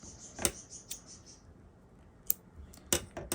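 Scissors snip yarn on a knitted piggy plush in a few sharp, close clicks spaced across a quiet moment.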